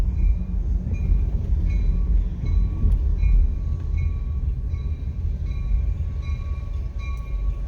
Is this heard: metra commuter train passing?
yes